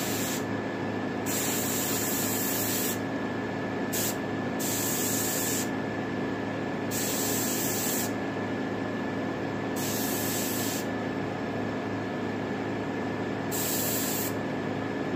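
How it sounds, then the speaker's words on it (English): An airbrush sprays paint onto a taxidermy turkey head: a continuous hiss of sprayed air runs throughout, with the sharp high edge of the spray cutting in and out in repeated bursts. "if at all possible, try to control your air spray."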